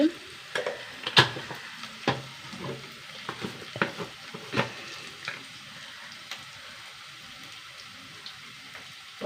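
Onions sautéing in a pan while a spoon stirs them, with a soft sizzle under scattered scraping clicks and a few louder knocks, steady and close with no talking.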